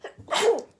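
A single sharp human sneeze, close and loud, with a short breathy intake before the burst, heard indoors with no talking.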